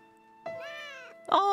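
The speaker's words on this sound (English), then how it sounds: "The cats are singing too" Cats in Final Fantasy VII Rebirth let out two bright, tuneful meows, one drawn out and one short and loud, over a soft sustained musical background.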